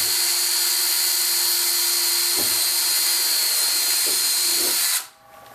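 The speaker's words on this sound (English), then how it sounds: "and just drill straight through." A power drill bores straight through a bifold closet door in one loud, steady whine that holds for about five seconds, then cuts off abruptly as the bit breaks through.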